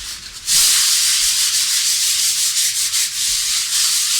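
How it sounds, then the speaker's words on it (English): A floor is sanded by hand with 120 grit sandpaper in steady back-and-forth strokes, a close, continuous rasping scrub that pauses briefly at the start. "you want to just lightly sand it. And I'm using a 120 grit sandpaper"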